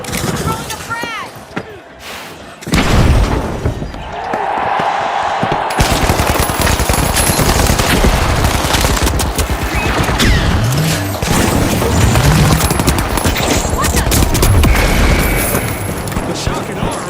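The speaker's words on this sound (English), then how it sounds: "Throwing a frag." In a shooter video game, a thrown frag grenade goes off with a boom, followed by sustained loud bursts of automatic gunfire and mechanical clatter, with a voice talking underneath.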